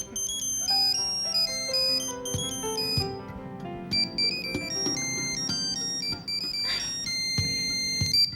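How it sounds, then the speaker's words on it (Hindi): A melodic electronic phone ringtone plays loudly and continuously, its bright tones repeating in a bouncy tune. "अरे यो किसका फोन आ गया"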